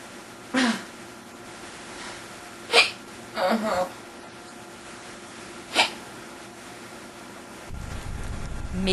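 Short, sharp hiccups from a man trying ways to get rid of them, three or four isolated bursts spaced a second or more apart, near and fairly loud, with a rustling swell of noise at the end.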